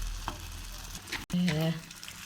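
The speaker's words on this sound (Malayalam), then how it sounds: "ഇതുപോലെ നന്നായി തിളച്ചിരിക്കണം എണ്ണ. ഇതുപോലെ നമുക്ക് എല്ലാം ഒന്ന് ഫ്രൈ ചെയ്തെടുക്കാം." Egg bhaji frying in hot oil, a steady close sizzle with spattering that swells louder after a brief cut, while a voice briefly speaks over it.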